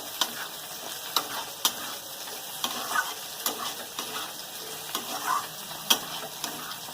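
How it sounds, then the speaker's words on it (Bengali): Pointed gourd and potato, already fried, stirred with garam masala in a pan: steady soft sizzle with repeated scraping stirs and light clicks throughout, close and moderately loud, no voices. "গরম মশলা দিয়ে একটুক্ষণ নেড়ে নিয়েছি"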